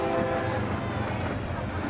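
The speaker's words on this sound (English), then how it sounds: "Train going by in the distance." A train passes at a distance during a soccer match between Phoenix Rising FC and El Paso Locomotive FC, a steady broad rumble with a faint sustained horn tone under the crowd noise of the stadium.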